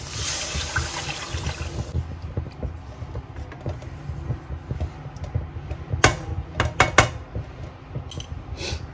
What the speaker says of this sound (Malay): Masukkanlah air dari bilasan blender tadi, okey.